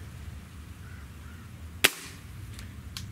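A single sharp crack from a .30 caliber air rifle, either a Gamo Swarm Magnum or a Hatsan 135, fired once amid a low steady background hum, with faint ringing afterward.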